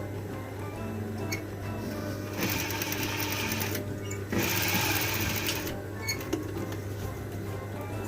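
A sewing machine stitches a vest in a steady, close mechanical whir, with bursts of faster, louder running and brief pauses between seams.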